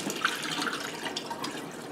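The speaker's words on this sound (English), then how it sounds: "Turn on the water high, and then I'm going to be pushing this right along the edge here" Tap water running at high flow and pushing through an N95 respirator mask held under the stream, a steady close hiss with faint splashing and drips throughout.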